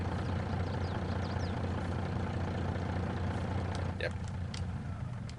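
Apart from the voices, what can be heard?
Mack truck engine idling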